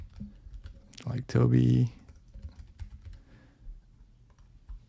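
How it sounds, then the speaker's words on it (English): Typing on a computer keyboard with scattered key clicks, close by and fairly quiet, while a person speaks briefly over the tapping. "whenever I want to change anything, I can simply type it here"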